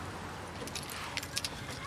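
Keys jangle in a few quick, light metallic rattles close by, heard in the middle of someone's hurried search, with faint background hiss and no clear talking.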